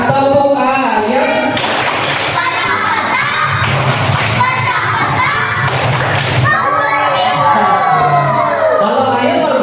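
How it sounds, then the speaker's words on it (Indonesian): Students chant the 'tepuk ayam' chicken clapping routine in a classroom, a loud mix of children's voices shouting in unison with sharp bursts of rhythmic group clapping that recur in several waves. "Ada namanya tepuk ayam. Masih ingat tepuk ayam? Oke, sekarang tepuk ayam."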